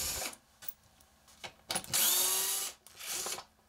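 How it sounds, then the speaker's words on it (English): Cordless screw gun with a number 2 square bit backing out screws from an RV roof vent garnish, several short whirring bursts with one longer spin, close and separated by quiet pauses. "use the screw gun with the number 2 square bit and remove the 4 screws"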